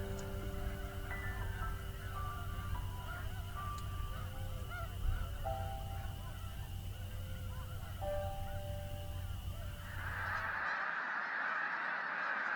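A large flock of tundra swans calls from a distance, a dense overlapping chorus of soft honking and whooping notes in winter, continuing steadily until it cuts off.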